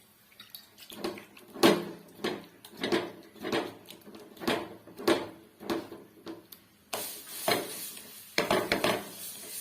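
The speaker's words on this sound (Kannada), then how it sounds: "ರವೆ ರೊಟ್ಟಿ ಹಾಕೋತಾ ಇದ್ದೀನಿ." Rava roti, a semolina flatbread, being patted out and cooked on a pan without oil, heard as a steady series of soft pats and taps about every half second, close and quiet, with no talk.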